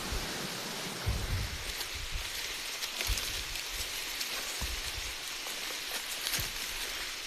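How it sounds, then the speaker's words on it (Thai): Steady rain falls through a forest during a trek, a dense even hiss of drops on leaves and ground with a few nearer patters, continuous and fairly close, no voices. "ฝนตกเลยนะพี่น้อง"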